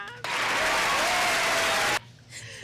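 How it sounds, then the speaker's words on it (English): Audience applause bursts out loud and full on a radio show, a steady wash of clapping that holds for nearly two seconds, then cuts off abruptly into quiet room tone. "everybody give her a round of applause"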